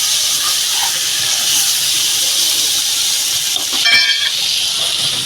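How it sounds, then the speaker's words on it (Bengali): Moringa drumsticks frying with turmeric in a pan give off a steady, loud hiss, with a brief clatter of utensils near the end. "হলুদ দিয়ে দেবো পরিমাণ মতো বন্ধুরা এটা ভালো করে এবার ভাজবো আমি"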